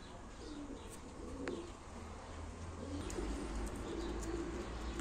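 Pigeons coo at a live pigeon auction, several low rolling calls rising over a steady room hum, with a few brief flutters and clicks nearby.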